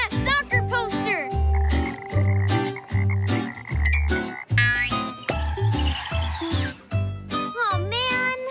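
A cartoon frog croaks again and again in loud, bouncy, rubbery bursts with playful boing-like pitch swoops, set against cartoon sound effects and a voice calling out in between.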